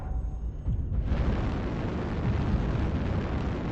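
Weapons firing in MechWarrior Online as a sudden broad roaring blast that swells in and holds as a dense, rumbling barrage, loud and continuous after a brief quieter lead-in.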